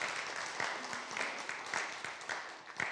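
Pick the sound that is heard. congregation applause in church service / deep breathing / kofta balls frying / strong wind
congregation applause in church service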